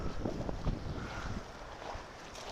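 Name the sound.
strong wind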